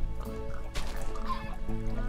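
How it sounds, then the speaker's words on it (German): Chickens cluck in a pen beside pigs in the Minecraft video game, a short burst of close, busy clucking over a low droning game background. "Alter, wo kommen denn diese ganzen Hühner bitte her?"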